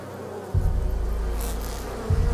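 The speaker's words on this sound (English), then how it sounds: "There's a lot of bees." Bees buzzing in the A Plague Tale Requiem video game, a dense, loud, continuous low drone that starts abruptly and swells again near the end.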